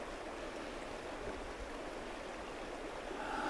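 River water in Sedona, Arizona flows in a constant broad rushing wash, steady and moderately quiet, swelling slightly toward the end, with no voices.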